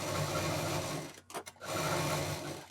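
Domestic sewing machine stitching a quilting pattern through foam, a loud close steady whirring run that stops briefly in the middle with a few short stutters before resuming, no voices.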